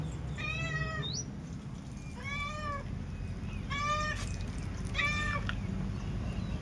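A cat meows four times in a row, clear and fairly close, while being given milk, over a low steady background hum.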